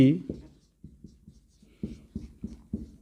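Chalk or marker writing on a board during a maths lesson, a series of short scratchy strokes in a quick rhythm, following a brief voice at the start.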